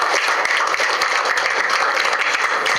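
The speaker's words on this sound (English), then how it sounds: "Deserve another round of applause." Dense, steady applause from a large crowd at an opposition parties' press briefing fills the whole stretch, many hands clapping at once with no pauses.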